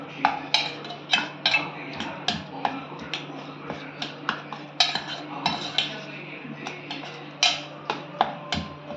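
A spoon stirs mashed banana into oats and milk in a bowl, with quick, crisp clinks against the bowl repeating in an uneven rhythm over a low steady hum.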